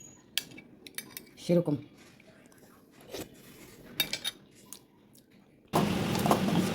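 Boiled eggs being eaten from dishes with cutlery, giving scattered light clinks and scrapes of metal on plates, a brief word spoken, then a louder broadband burst of kitchen noise near the end.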